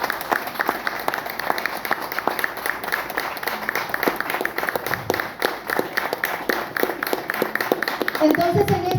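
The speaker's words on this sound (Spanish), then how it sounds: "Vamos a rendirle un fuerte aplauso al Señor por eso" A church congregation applauds steadily for several seconds during a service, dense clapping throughout at moderate distance, with a voice briefly emerging near the end.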